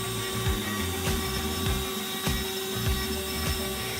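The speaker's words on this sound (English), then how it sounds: "A wood screwdriver that creates precise screw lines for woodworking projects, improving the precision of a carpenter's work." A woodworking machine cuts screw lines into wood, a steady high mechanical whine broken by a regular series of sharp pulses about every half second, loud and close.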